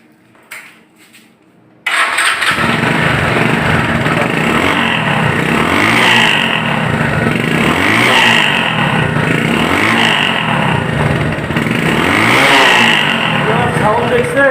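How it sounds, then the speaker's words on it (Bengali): A 2010 Bajaj Discover 135cc motorcycle engine fires up after a quiet moment, then runs loud and close with a steady, smooth idle and a rhythmic pulsing throb. "বাইকের সাউন্ডে কোনো কমপ্লেন করা যাবে না, একদম ফ্রেশ আছে।"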